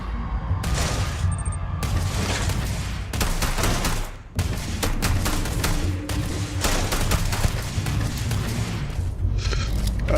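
Heavy gunfire in a sci-fi firefight from Starfield, rapid overlapping shots and booms rattling almost continuously, loud and dense with only a brief lull near the middle.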